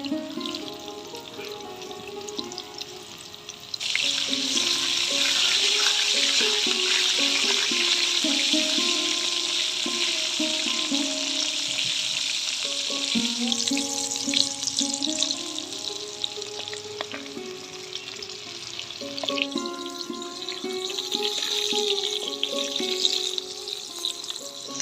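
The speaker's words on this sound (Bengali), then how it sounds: "ফুলকপি ভাজা হয়ে গেছে, লাল লাল করে ভেজে নিয়েছি" Cauliflower florets seasoned with salt and turmeric sizzle in hot oil, a steady bright crackle lasting throughout with occasional stirring clatter and faint tonal background, no speech.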